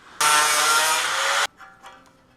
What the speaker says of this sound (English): You just cut it with the angle grinder?